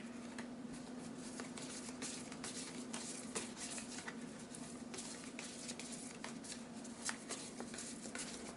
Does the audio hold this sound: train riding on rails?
no